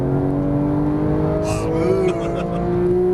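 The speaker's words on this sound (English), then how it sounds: "Now squeeze that throttle." A Porsche 911 GT3 of the 991 generation accelerates under throttle, its engine note a loud, steady drone that climbs slightly in pitch, with a brief burst of hiss partway through.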